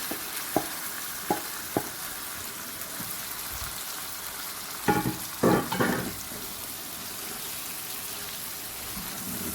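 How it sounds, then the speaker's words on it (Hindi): Marinated chicken going into a hot pan for Afghani malai karahi, with a few sharp taps early on, then a burst of sizzling and clatter partway through, over a steady background hiss of frying. "अब इसके साथ ही अपनी ये चिकन जो हमने मैरिनेट करके रखी थी वो डाल देंगे"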